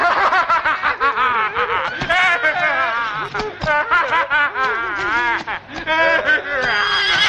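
A voice imitates a horse, with a run of loud, wavering whinnies and snickering neighs delivered close up, almost without pause.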